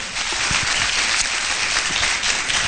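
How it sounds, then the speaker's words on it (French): During a semi-final of a televised seduction contest, an audience gives a contestant loud, dense applause with cheering. The clapping stays steady and full throughout. "on lui accorde des acclamations très fortes, très nourries."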